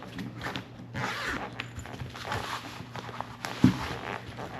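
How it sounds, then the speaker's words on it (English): A zipper on the side of a pouch from a Brother embroidery machine bundle, worked in soft, close rasping pulls with light handling rustle and one sharper tug near the end. "So there's a zipper on this side."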